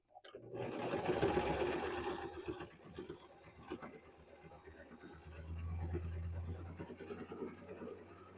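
Sewing machine stitching a quarter-inch seam on a dish drying mat wristlet, a steady close whirring run that slows and then picks up again, with a faint voice underneath.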